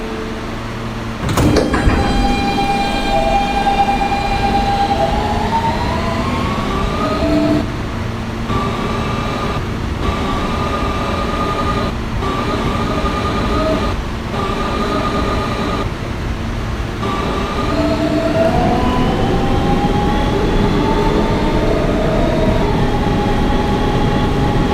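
A Kawasaki R160B Siemens subway car on a Brooklyn-bound R local runs loud and near, its traction motors whining up and down in pitch over a steady rumble of wheels on track.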